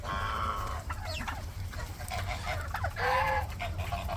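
A mixed farmyard flock of poultry, turkeys, ducks and chickens, clucks and honks in short overlapping calls, several birds at close to moderate distance with no talking.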